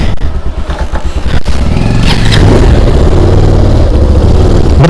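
A motorcycle engine running loud and close, chugging at idle and then revving steadily as it pulls away, leaving a homestay near Mudigere, Karnataka.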